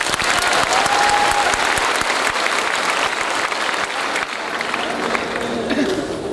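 Sustained applause from an audience at a Forever Living India success day event in Patna, dense, loud and steady throughout with faint crowd murmur.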